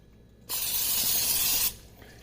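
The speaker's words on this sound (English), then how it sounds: "I normally hit it again with a little bit of spray" A single steady spray of cooking oil hisses for about a second into a cast iron skillet, close and clear, then cuts off abruptly.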